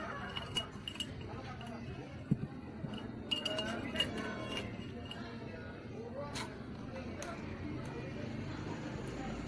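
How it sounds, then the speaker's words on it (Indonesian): A spoon clinks against a glass while salt is added, in a few light, bright taps scattered over several seconds alongside steady background noise and some talking. "masukkan 3 sendok garam ke dalam gelas kedua"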